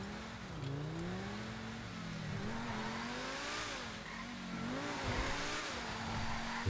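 A Progen T20 supercar in GTA Online accelerating hard, its engine note climbing in pitch through repeated gear shifts, loud and continuous with a brief tire scrub near the end.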